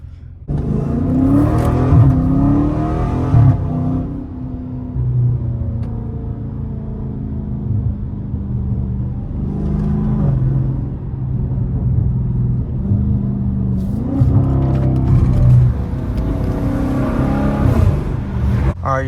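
A Dodge Challenger Scat Pack 392 muscle car engine revs and roars up and down repeatedly while drifting, rising and falling in pitch, loud and close with no talking.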